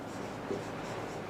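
Pen or chalk writing numbers during a class 5 maths lesson on large numbers, a faint soft scratching over quiet room noise.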